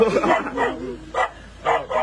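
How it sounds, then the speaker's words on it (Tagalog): A dog barks a few times outdoors in a Mangyan indigenous community in Mindoro, with short, mid-loud yips spaced across the moment while people talk over it. "ito may aso"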